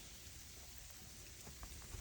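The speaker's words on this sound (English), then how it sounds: "It's freezing rain." Freezing rain falls outdoors during a snow storm, a faint, steady hiss of light drops with a few soft patters standing out near the end.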